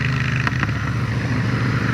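A Royal motorcycle being ridden hums with a close, steady engine drone, a brief flicker of extra noise near the middle.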